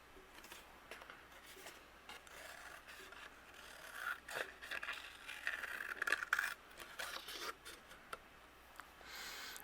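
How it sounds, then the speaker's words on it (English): Scissors fussy cutting around a stamped clear card for cardmaking, a quiet series of close, soft snipping and scraping sounds with irregular pauses. "I'm going to use my scissors. I'm going to fussy cut this out."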